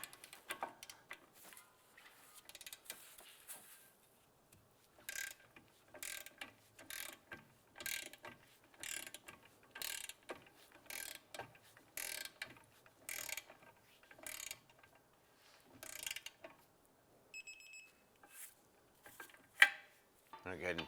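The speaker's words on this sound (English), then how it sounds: "I'm going to go ahead and torque down our cam bolt here to" A ratcheting torque wrench tightens the cam bolt on the rear trailing arm of a 2006-2011 Cadillac DTS to 77 foot-pounds, giving repeated short bursts of mechanical ratchet clicks with brief pauses between strokes, close up.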